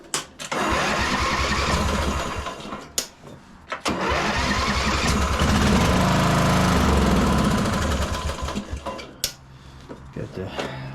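A beat-up 1996 Craftsman LT1000 Turbo lawn tractor engine cranks over in loud, grinding bursts, catching briefly and running rough before sputtering out, with a few clunks between attempts.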